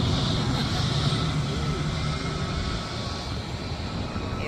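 Airplanes taxiing at Rarotonga International Airport at night give a steady, continuous engine roar with a low rumble, holding fairly constant and easing slightly over a few seconds, with no talk over it.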